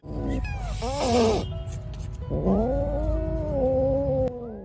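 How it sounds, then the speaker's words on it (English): An angry pregnant cat trapped inside a house yowls loudly and close, giving several long, rising and falling wails with short breaks between them. "they had to deal with a very angry pregnant cat that had got into one man's house"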